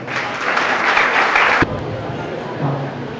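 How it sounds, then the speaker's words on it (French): Guests at a family celebration on 17 November 2012 applaud to welcome a guest with a loud, dense burst of clapping that cuts off sharply after about a second and a half, followed by quieter room murmur and a voice. "Merci de l'accueillir par des applaudissements."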